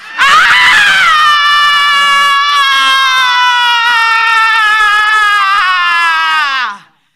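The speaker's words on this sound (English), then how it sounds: "And now we're going to scream." A crowd screams together at a lively spiritual gathering, one loud sustained piercing shriek that holds for about six seconds before cutting off sharply.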